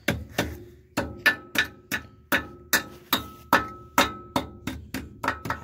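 A series of sharp metallic hammer blows on fencing wire on a farm, about a dozen strikes in an uneven rhythm, close by with ringing overtones and no talking.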